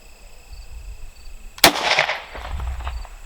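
A single sharp, loud 9mm gunshot fired into a ballistic vest during a shooting test, a sudden blast at close range followed by a brief reverberant tail, with no talking.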